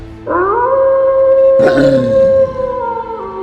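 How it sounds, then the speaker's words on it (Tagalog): A long, sustained howl with a steady rising-then-level pitch, loud and close, with a burst of rougher noise partway through. "narinig namin na may alulong ng aso o lobo"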